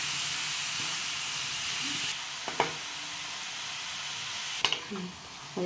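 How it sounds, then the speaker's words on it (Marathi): Grated carrot halwa sautéing in a pan on a low flame gives a steady, soft hiss, with a few sharp clinks from the spoon against the pan partway through. "बारीक गॅसवर चांगलं परतायचं।"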